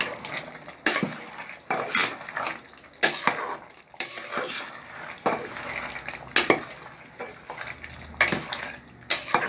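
Chettinad-style mutton biryani being stirred from the bottom of the pot: repeated scraping and clanking of a spoon against metal in irregular strokes, close and fairly loud, with faint sizzling between and no talking.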